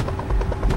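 Helicopter in the Rainbow Friends video game, a steady buzzing rotor drone lasting under a second, loud and close with a few swelling pulses, no talk over it.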